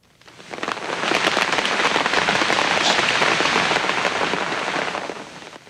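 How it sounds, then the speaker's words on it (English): Early summer rain in Kyoto, a dense steady hiss of falling drops that swells in and holds loud and close for several seconds before easing off, with no voices. "In an early summer rain, Kyoto seems born anew"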